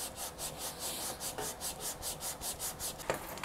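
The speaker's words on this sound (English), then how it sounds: "A little sanding, and we're going to be all right. We'll switch over to our 180." Rhythmic back-and-forth rubbing of 180-grit sandpaper on a wooden guitar body, a steady scratchy hiss repeating about five times per second, close up with no talking.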